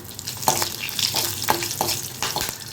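Mustard seeds, cumin and curry leaves sizzle in hot oil with a crackling, spitting hiss, punctuated by short sharp pops and bursts of spluttering as they are stirred, close and fairly loud.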